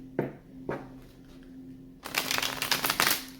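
A couple of soft taps, then a brisk close-up shuffle of tarot cards with crisp flicking and rustling.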